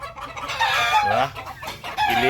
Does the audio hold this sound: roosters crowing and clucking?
yes